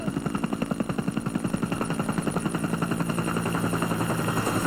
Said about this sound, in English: His helicopter lands in a field some kilometres out of Likasar.